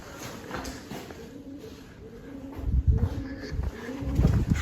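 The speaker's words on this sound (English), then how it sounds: "Can you hear that pigeon?" Pigeon cooing outdoors in Glastonbury, several soft, low, throaty coos in a loose rhythm, close by, with faint background noise and a few louder thumps toward the end.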